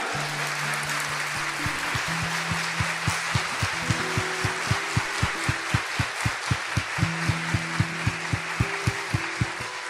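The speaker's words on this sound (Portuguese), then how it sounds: "Pode dar uma salva de palmas." A church congregation clapping together in a steady rhythmic beat at a Mass homily, loud and sustained under a faint wash of room sound and low voices.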